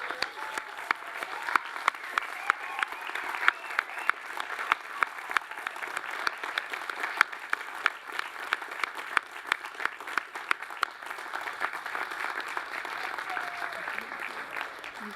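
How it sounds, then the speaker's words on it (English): A large audience at a university graduation ceremony, Faculty of Science at UTS, claps in dense, sustained applause for the whole stretch, steady and full with sharp individual claps poking through and a faint murmur of voices beneath. "give them a rousing round of applause"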